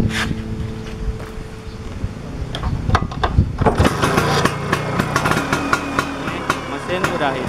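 A Vespa scooter engine being brought to life after only two wires are joined from the points to the coil, first sputtering and popping irregularly, then catching into a loud, steady running beat close by.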